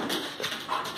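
A puppy lets out a quick burst of short, high yips and whimpery barks, close by, in a brief moment with no one talking.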